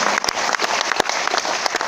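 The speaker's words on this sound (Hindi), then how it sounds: "एक बार जोरदार ताली चाहूंगा।" A seminar audience claps loudly in a hall during a business meeting in Bhilwara, Rajasthan, sustained dense applause with sharp individual claps throughout.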